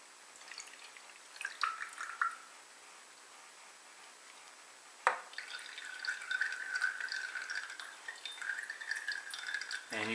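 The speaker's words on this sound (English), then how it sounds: "pour it through the filter paper" Liquid trickles and drips steadily through a filter, a thin splashy stream with a sharp clink midway, close by and quiet.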